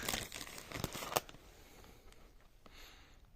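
A branded sack of pea seeds handled up close, with crinkling and rustling of the bag material in quick bursts at first, then fading to faint, softer shuffling.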